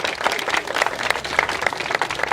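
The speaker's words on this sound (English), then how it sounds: "Let's give our legislative champions a round of applause." A crowd applauding steadily at a Colorado preschool bill signing, many hands clapping at once in a dense, continuous patter with no voices rising above it.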